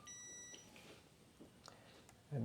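Multimeter set to continuity gives a steady high-pitched electronic beep while its probes test fuses on a BMS circuit board, the tone sounding close and clear through the first half-second before fading out.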